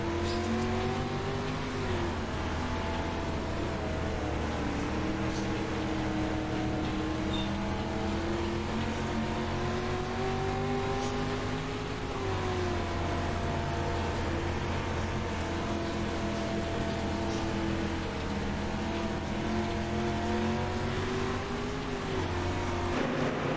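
Race car roars through a heat race lap at Volusia, heard onboard, its engine loud and close for the whole lap, rising and falling as it accelerates down the straights and eases into the corners.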